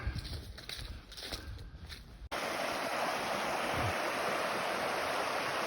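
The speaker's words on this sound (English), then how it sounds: "There's a lot of water crossings. This is the first one today. It's a pretty big one." Stream water at a crossing on the Ozark Highlands Trail, first uneven splashing and clatter, then a sudden switch to a loud, steady rushing flow close by.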